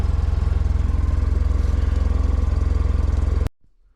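A side-by-side utility vehicle's engine idles close by at an off-grid cabin, a steady low rhythmic chug that runs evenly for about three and a half seconds and then cuts off abruptly into near silence.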